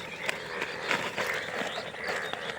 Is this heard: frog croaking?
yes